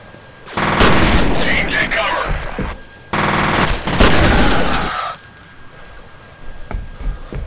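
Heavy gunfire from F.E.A.R. Extraction Point rings out in two loud, dense bursts of blasts, each lasting a couple of seconds, with a short gap between and quieter game noise trailing after.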